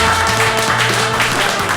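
Studio audience applause greeting David Letterman at a podcast taping, a steady wash of clapping that fills the short moment without a break, with a low musical hum beneath it.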